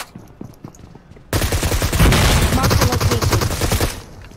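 Sustained automatic gunfire in a squad-based shooter match, a dense burst of rapid shots that starts abruptly after a quiet moment and keeps going loud and close for about three seconds, with faint game sounds before it.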